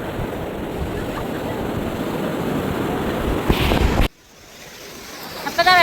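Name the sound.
sea waves at Cherai beach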